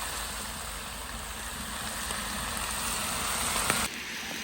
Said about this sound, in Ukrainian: Обжарили цибулю до золотого кольору.